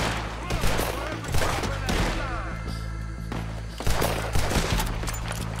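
Rapid bursts of gunfire in the video game Red Dead Redemption 2, loud and repeated in clusters over game music, with a short lull in the middle before more shots.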